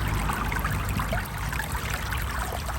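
Floodwater pours steadily across a worn walkway beside the flooded River Thurne at Potter Heigham, a continuous loud rushing and trickling that cuts grooves into the path, with no talking.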